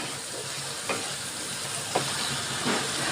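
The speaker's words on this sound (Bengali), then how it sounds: "দেখুন আমার কষানো হয়ে গেছে চিংড়ি মাছ" Prawns frying with ginger, cumin paste and turmeric water in a pan, a steady hissing sizzle with a few soft stirring knocks, fairly close and even throughout.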